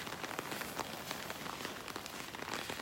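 Rain falls steadily on a beach in North Naples, Florida, a dense hiss of drops spattering on surfaces around the listener, continuous and fairly soft, with no voices.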